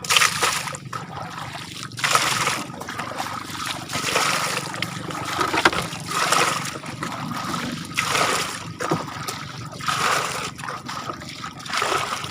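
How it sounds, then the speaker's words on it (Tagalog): Water poured and splashing out on a fish cage in a lake, a series of sloshing pours and trickles at close range that come in rough bursts every second or two. "Lagyan ulit natin ng tubig"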